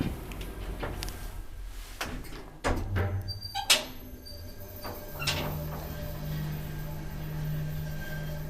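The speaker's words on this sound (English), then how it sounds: "The door closes immediately." An old Kone traction elevator in Helsinki closes its door, with clicks and a sharp clunk followed by a rising motor hum, heard close in a quiet space with no talk.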